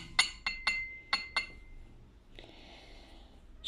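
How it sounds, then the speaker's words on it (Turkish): A Turkish coffee cup opened for fortune reading clinks five times in quick, bright, close porcelain taps, followed by a soft brief rustle and a faint hiss. "fincanınızı açıyorum bakalım"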